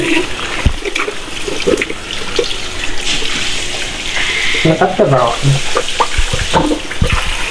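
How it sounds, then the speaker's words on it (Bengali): Water poured over a Samsung Galaxy S25 Ultra and an iPhone 16 Pro Max, splashing and trickling steadily close by, with a voice speaking now and then over the flow. "এটাতে এক্সপেন্ট যা আছে সব কিছুর ভিতরে পানি দিয়ে দিই"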